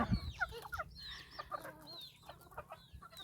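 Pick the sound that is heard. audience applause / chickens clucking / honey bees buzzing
chickens clucking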